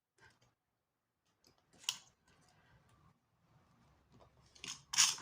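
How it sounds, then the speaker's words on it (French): Scissors snip fabric for a small sewing project, two or three sharp close cuts separated by quiet handling and soft rustles. "Et là, je coupe."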